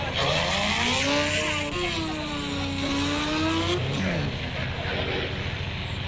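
A loud, steady Royal Enfield motorcycle engine drone in a video game, rising and falling in pitch like revving, continuous throughout with a brief dip near the end, with speech faintly underneath.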